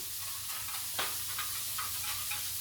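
Chopped onion frying in a pan, a quiet steady sizzle with a faint scrape or tap partway through, close by and without speech.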